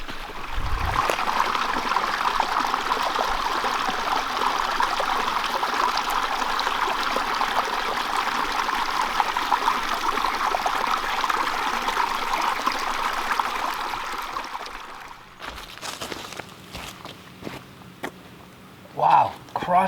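A brook in the New Hampshire woods beside an old stone bridge flows over stones in a steady, full rushing wash that dominates for about fifteen seconds. It then drops to quieter trickling with a few scattered knocks.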